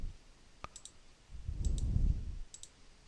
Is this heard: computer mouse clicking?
yes